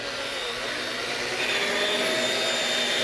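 A car paint polisher buffs a vehicle panel with Wolfgang Total Swirl Remover, giving a steady, close whirring drone that holds at an even level throughout with no talk.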